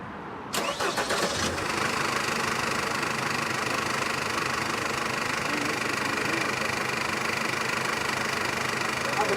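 A car engine cranks and catches, then settles into a steady, close idle with a slightly knocking, uneven rumble that runs on without pause.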